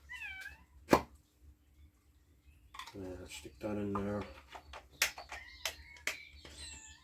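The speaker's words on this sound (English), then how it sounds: "I hear my cat's returned," A domestic cat meows outside, wanting to be let into the house on a rainy day, with a few short cries around a man's brief speech and scattered clicks and clatter from a motorcycle engine rebuild nearby.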